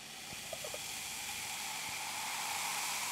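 Fizzy 7.3% vintage cider hisses softly in a freshly opened bottle, a faint, steady fizz that builds slightly over a few seconds with a small clink near the start.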